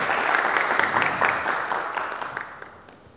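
Audience applause at a parents' academy talk, a steady wash of many hands clapping that stays dense and close before fading slightly toward the end.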